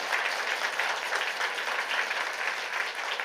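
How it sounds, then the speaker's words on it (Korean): Worshippers at a Sunday morning church service applaud for God in a continuous, even burst of clapping from many hands, moderately loud and heard on its own. "너무 박수 한번 합시다 주님께"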